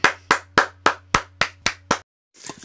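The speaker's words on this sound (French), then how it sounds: "Alors là, je ne peux qu'applaudir." A few people clap in a slow, even rhythm of about eight distinct claps, close and loud over a steady low hum, then stop abruptly, followed by a faint rustle.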